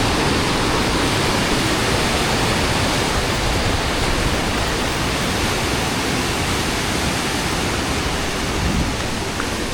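Water rushing through channels cut in rock at Golumale, Nildandahinna, Walapane, a dense, steady, loud wash of flowing water that holds unbroken throughout.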